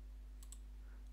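Two faint, close clicks of a computer mouse come in quick succession while working in ABAQUS modelling software, set against a low steady electrical hum.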